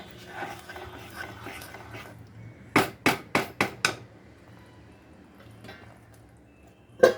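Lid set on a cooking pot of spiced fish masala on a gas stove: a quick run of five sharp metallic clanks, then quiet, with one more clank at the end.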